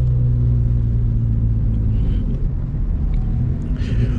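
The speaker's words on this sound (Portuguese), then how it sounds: "Você acelera um pouco. E faz aquele barulho de Honda" A Chevrolet Celta fitted with a sport air filter idles with a loud, close, steady engine rumble, giving only slight rises in revs and no strong acceleration sweep.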